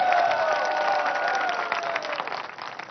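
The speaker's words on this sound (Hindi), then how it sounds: "एक बार ताली खुद के लिए भी बजा दीजिए।" A crowd claps and cheers in the audience of a live election debate in Barabanki, a steady wash of applause that slowly fades.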